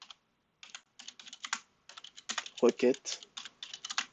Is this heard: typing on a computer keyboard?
yes